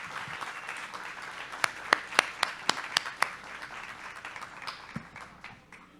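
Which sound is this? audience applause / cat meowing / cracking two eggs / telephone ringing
audience applause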